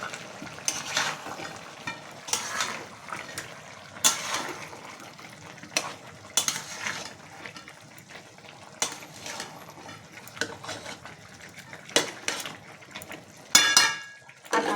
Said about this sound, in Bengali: এই সময় আমি আলুগুলো অ্যাড করব